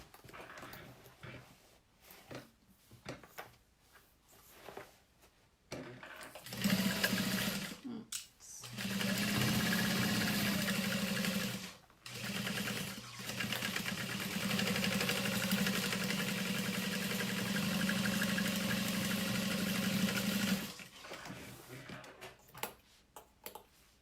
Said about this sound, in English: we're gonna baste it in place